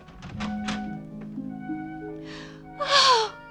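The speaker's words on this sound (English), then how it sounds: "She gasped" A woman's sharp, breathy gasp near the end of a 1954 radio crime drama scene, following a few soft thumps and a low sustained tone.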